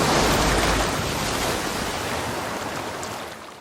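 Ocean waves rushing and engulfing a calm coastline in a horror film, a loud broad wash of surf that slowly fades across several seconds, with no voices.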